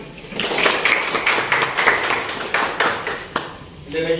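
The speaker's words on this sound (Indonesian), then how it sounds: "Bagus, tepuk tangan." Students in a classroom clap their hands for a classmate, a series of scattered broadband claps of moderate loudness with no steady rhythm.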